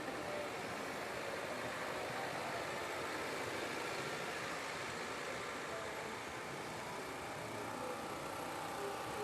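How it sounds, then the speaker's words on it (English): A farm tractor rolls down Dalton Road in the Sutton Santa Claus Parade of Lights, its steady engine rumble blending into the dense outdoor crowd noise and talk for the whole stretch. "It's not every day you see a tractor coming down Dalton Road."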